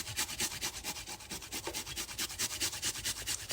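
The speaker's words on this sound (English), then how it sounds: "A nice piece of ginger, which you're gonna grate up." A piece of fresh ginger being grated by hand, giving a steady run of rapid rhythmic rasping strokes, close and fairly loud, with no talking.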